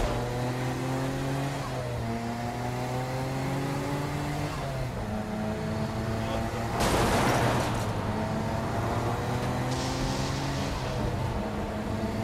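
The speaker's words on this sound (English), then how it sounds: "Kinsey Kensington and Johnny Gat driving together on a birthday adventure" Car engine from the Saints Row: Gat out of Hell video game, a steady humming drone with rising and falling pitch as it accelerates, plus a brief burst of noise midway, with no talking.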